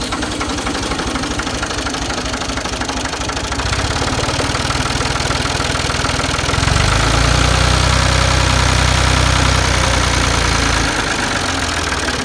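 A Ford 2000 tractor's diesel engine cranks and runs, a rough knocking idle that steps up in revs partway through and settles into a louder, heavier throb, close and continuous with no talk.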